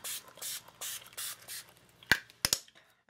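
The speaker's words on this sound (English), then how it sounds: "I'll spray a little bit more of this" Several quick hissing bursts of Distress Stain from a spray bottle in an uneven rhythm, followed by a few sharp clicks of the trigger, close by.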